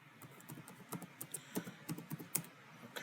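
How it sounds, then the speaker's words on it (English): Fingers tap out an irregular burst of quiet keystrokes on a computer keyboard, soft clicks close by in an otherwise still room. "So we need to type in direction."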